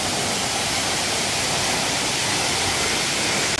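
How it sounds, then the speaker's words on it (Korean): A steady, dense roar of Suok Falls in Goesan, Korea, dropping 20 meters onto bedrock within a huge rock wall, fills the whole clip, broadband and constant with no pauses or voices. "저 위에 20m 높이에서 폭포가 떨어집니다."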